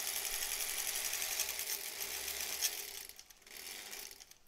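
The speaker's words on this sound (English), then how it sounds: "This sewing machine sounds like a lawnmower." A noisy sewing machine running a straight stitch, a fast dense mechanical chatter close by that slows and changes pace near the end.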